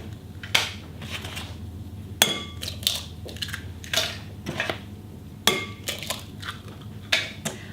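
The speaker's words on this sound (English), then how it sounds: "Then we're going to crack in the 3 eggs" Three eggs are cracked into a bread mixture for sunflower and linseed bread, giving a series of sharp taps and clicks of shell against a bowl at close range, with soft kitchen handling noises between.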